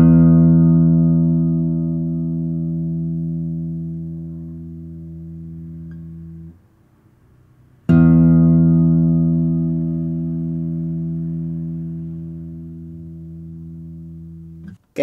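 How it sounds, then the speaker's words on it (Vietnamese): Acoustic guitar with a Sitka spruce top struck in its low register, two deep bass notes that ring and slowly decay for several seconds each, heard alone and close. "chúng ta sẽ cùng nghe cái tiếng bass của 6 cây đàn này ha"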